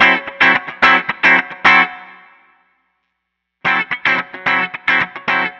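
Electric guitar through a Line 6 Helix with no compression, two bursts of rapid picked chord stabs separated by a decaying ring and a second of silence, punchy, close and uneven in level.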